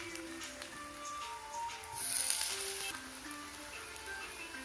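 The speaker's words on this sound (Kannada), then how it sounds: "ಒಂದು 2 ಮಿನಿಟ್ಸ್ ಚೆನ್ನಾಗಿ ಫ್ರೈ ಮಾಡ್ಕೋಬೇಕು ಕಡಿಮೆ ಉರಿಯಲ್ಲಿ" Bread cutlet batter fries in oil in a pan over a low flame, giving a faint, soft sizzle with a brief louder crackling swell in the middle.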